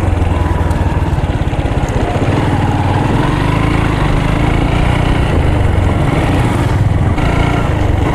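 A rented motorcycle climbs a winding mountain road between Siliguri and Jhandi, its engine droning loud and close with a steady, throbbing pulse and rushing wind throughout.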